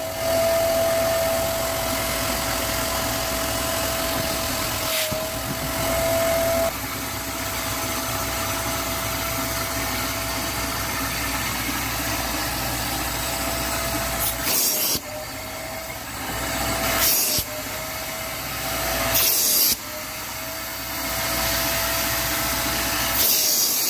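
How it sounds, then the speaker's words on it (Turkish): A Kärcher wet-dry vacuum cleaner drones continuously at close range while sucking moisture from sofa upholstery, with a steady whine and several brief drops and surges as the nozzle lifts and presses on the fabric. "sonrasında süpürgeyle çekiyorum."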